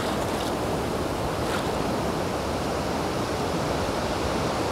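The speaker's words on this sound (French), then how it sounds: "C'est le ressac, c'est la mer qui prend, qui revient." Sea surf breaking and drawing back on a beach during surfcasting, a steady loud roar of waves and hissing backwash filling the whole stretch with no voices.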